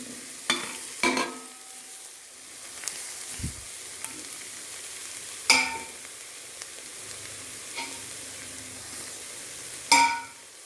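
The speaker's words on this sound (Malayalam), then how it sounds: "ഇത് നല്ലതുപോലെ ഇളക്കാം." Chilli, coriander and turmeric powders frying in a pressure cooker for chicken biryani, a quiet low sizzle punctuated by several sharp metallic scrapes and knocks of a spoon stirring at irregular intervals, without speech.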